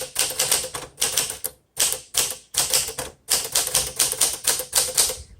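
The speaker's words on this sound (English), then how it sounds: "It's a very confident typewriter." A 1961 Smith Corona Sterling typewriter in seafoam green types in firm, crisp bursts of keystrokes, loud and close, with brief pauses between runs and no talking.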